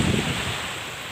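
Steady surf washes along the seashore at Tanza, Cavite, with a rushing, windy roar, close and continuous, with no voices.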